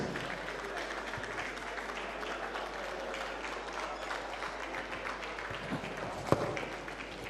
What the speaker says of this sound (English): I believe the Honorable Minister deserves a resounding round of applause